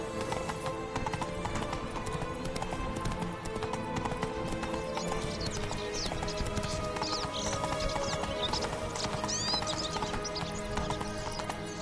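Horse galloping in The Witcher 3: a fast, steady clip-clop of hooves with a whinny partway through, continuous over game ambience and music.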